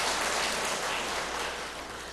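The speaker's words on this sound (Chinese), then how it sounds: "请各位弟兄姐妹给我一点掌声" A church congregation applauds during a Sunday service: a dense, even wash of clapping that holds steady and then eases off slightly toward the end, with no voices over it.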